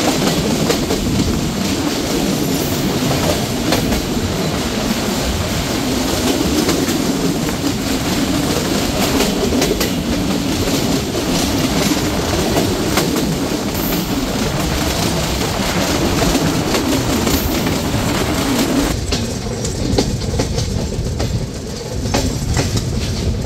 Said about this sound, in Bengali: এখন আমরা থ্রু পাস করে যাচ্ছি আরানি রেলওয়ে স্টেশন